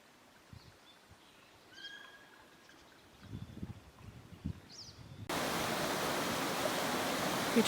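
Spring water of the Metolius River welling up from under the earth at about 50,000 gallons a minute in the Deschutes National Forest; faint bird calls in quiet air give way to a loud, steady rush of water in the final seconds.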